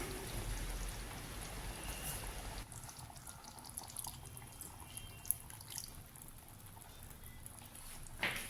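Thick first coconut milk pours into a pan of beef curry, a faint, soft liquid stream sitting low under steady kitchen background noise, with no talking.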